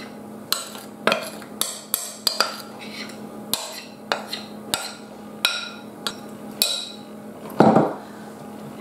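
Butterscotch tart mixture being mixed in a bowl, with repeated clinks and taps of a utensil against the bowl in an uneven rhythm and a brief louder scrape near the end, close and clear, no talking.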